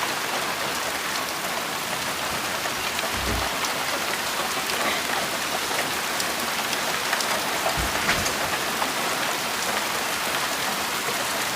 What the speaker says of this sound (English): I kind of like it when it's raining like this.